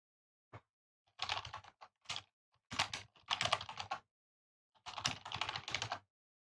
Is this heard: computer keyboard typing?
yes